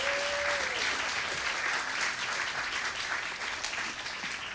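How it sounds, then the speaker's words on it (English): An audience at a city's State of the City address gives a sustained round of applause, a steady wash of many hands clapping at moderate volume from start to finish. "let's give her and the rest of the team another round of applause"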